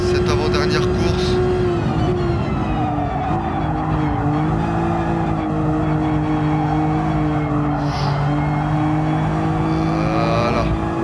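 A race car in Gran Turismo Sport drones loudly and continuously, its engine pitch rising and falling through gear changes, with brief tire squeals near the end while a commentator talks over it.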